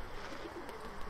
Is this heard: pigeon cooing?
yes